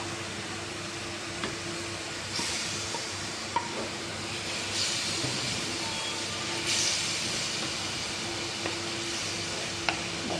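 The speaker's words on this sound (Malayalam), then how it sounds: "ഇതെല്ലാം നല്ല തിളച്ചിട്ടുണ്ട്" Ginger curry boiling in a pot, a soft, steady hiss and bubbling simmer that carries on without a break, with a few faint clinks and stirring scrapes now and then.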